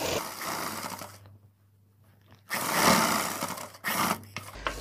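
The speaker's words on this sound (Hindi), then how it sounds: "इसमें दोस्तों हम लब पे पहले एक सिलाई लगाएंगे" An electric sewing machine stitches salwar cloth in two steady whirring runs, a longer one and then a shorter one, separated by a quiet pause with a faint hum. It stays close and moderately loud, with no talking.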